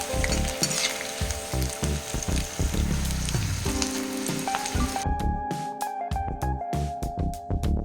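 Vegetarian anchovy-style fry made from banana flower crackling steadily as it fries crisp in hot oil, a dense close sizzle with a short pause near the end before it resumes, with no voices.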